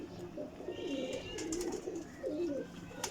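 Pigeons coo in a breeder loft, giving several soft, throaty rolling coos in a row, close and moderately quiet, with faint background noise.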